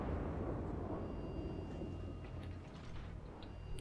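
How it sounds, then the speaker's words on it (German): A battleship's main gun salvo in the World of Warships video game, fired from the USS Iowa: a deep, heavy rumbling boom that rolls on and slowly decays, with faint background game sounds. "Er macht hier eine Salve."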